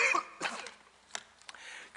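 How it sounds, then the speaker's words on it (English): A single man coughs sharply, a harsh burst followed by a couple of smaller throat-clearing coughs, close and alone with no talk. "I inherited a cough last week, and I see it's deciding now to reappear at this timely moment."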